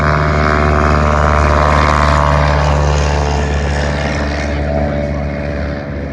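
A propeller airplane with leading-edge slats, carrying a passenger, takes off at a fly-in, its engine and propeller droning loud and close in a steady harmonic roar that eases slightly toward the end.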